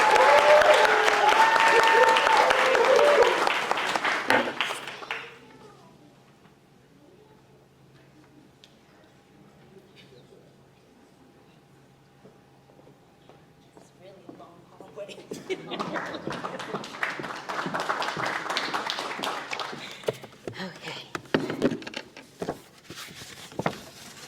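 Audience at a book launch applauding for a speaker, a loud burst of clapping that fades into a quiet pause, then renewed scattered clapping with some light laughter and talk.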